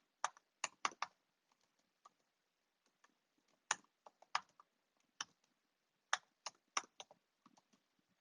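A password being entered on a computer keyboard: sparse, crisp key clicks in short quick bursts separated by pauses, close and quiet in an otherwise silent room.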